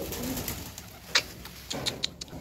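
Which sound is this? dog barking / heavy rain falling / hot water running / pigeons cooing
pigeons cooing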